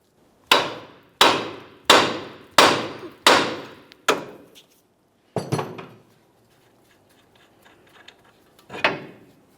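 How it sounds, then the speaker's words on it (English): Five sharp metallic hammer blows on the steering knuckle of a Nissan Titan pickup to free the tie rod end, in a steady rhythm, then a few more scattered strikes with quiet gaps between, ringing briefly after each hit. "To break the tie rod end free from the knuckle, go ahead and use your hammer"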